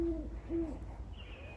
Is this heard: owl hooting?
yes